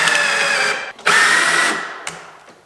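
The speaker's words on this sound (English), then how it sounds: "I'm drilling on the underside and I'm gonna do it on both ends" A power drill whines loudly drilling into wood, cuts off briefly, then spins up again and winds down, close by with no talking.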